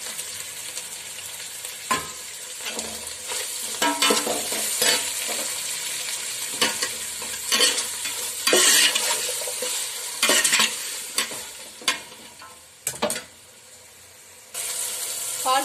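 Half a kilo of tomatoes sizzles in oil in a pot for restaurant-style mutton dum biryani, a close, steady frying hiss punctuated by repeated scraping strokes of a spoon stirring against the metal.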